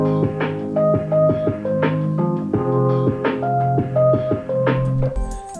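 A song, mastered through a Maximus plugin on the master bus, plays as a loud, dense mix of plucked melodic notes over a steady low bass, with a rhythmic pulse and a brief low thump near the end.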